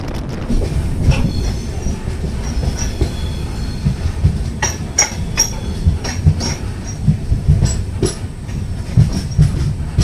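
The Godavari Express rolls on rails near Mahabubabad station, its wheels clacking and squealing in a steady, close rumble with sharp metallic screeches throughout.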